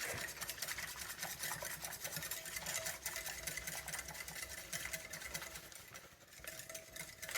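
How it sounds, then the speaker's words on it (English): A whisk beats pudding batter in a bowl, working dry ingredients into wet, giving a fast steady scraping rattle that runs continuously at close range without a break. "Just whisk that until it's all the dry is mixed in with the wet."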